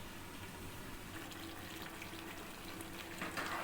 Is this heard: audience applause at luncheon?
no